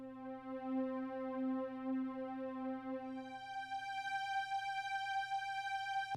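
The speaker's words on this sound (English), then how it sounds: "Then I add this purity string." Purity string synth preset in a beat melody sounds a sustained, bright harmonic string tone; a low pulsing note fades around midway while higher overtones open up, quiet and alone without voices.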